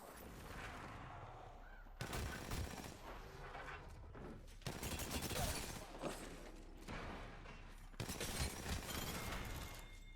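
Gunfire in Apex Legends: dense bursts of automatic shots in several loud, separated volleys across a noisy battle, with no voices.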